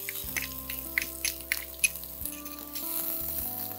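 Finely chopped onion added to a hot pan for Mughlai-style dal, sizzling and frying with several sharp clinks of a utensil against the pan as it is stirred, over faint steady background music.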